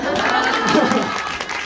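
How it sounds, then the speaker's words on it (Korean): Short burst of audience applause at a talk about blood-glucose monitoring and weight loss, dense and fairly loud with a few cheers under it, lasting under two seconds. "박수를 한 번만."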